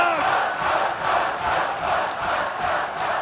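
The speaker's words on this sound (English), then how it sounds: "And you can hear the chants of Ugg" Wrestling crowd at an MCW Vendetta show chanting in unison for the caveman wrestler Ugg, a rhythmic pulsing roar of many voices repeating a short syllable, heard from within the arena and steady throughout.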